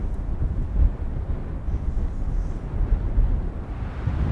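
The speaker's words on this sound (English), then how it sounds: "You can tell it sounds a little windy" Gusty wind at a backcountry campsite in Wyoming's Wind River Range buffets the microphone with a low, rumbling roar that rises and falls unevenly throughout.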